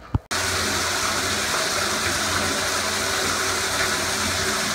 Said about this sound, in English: Washing my hands, no injury.